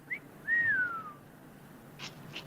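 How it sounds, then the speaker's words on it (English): A man whistles once nearby, a quick short note and then a single longer gliding whistle that falls in pitch, followed by quiet and a couple of soft noises. "That guy whistled."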